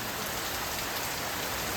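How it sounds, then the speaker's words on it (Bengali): Heavy rain hisses in a dense, unbroken roar, close and loud, with no voices or other sounds over it. "আমাদের এখানে সকাল থেকে বৃষ্টি হচ্ছে এত বৃষ্টি যে আমি বাজারও যাইনি আজকে দেখুন বৃষ্টির কি অবস্থা"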